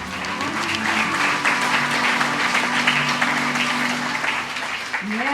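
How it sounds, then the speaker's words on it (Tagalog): A church congregation claps steadily and loudly throughout, forming a dense wash of applause with faint voices and a sustained musical tone underneath. "Palakpakan po natin ang Panginoon"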